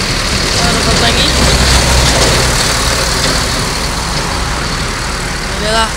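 An ALS tour bus engine runs at a steady idle, a smooth continuous low hum and rumble heard up close, with voices talking over it.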